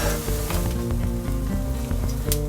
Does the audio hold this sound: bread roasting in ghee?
yes